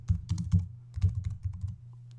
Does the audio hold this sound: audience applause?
no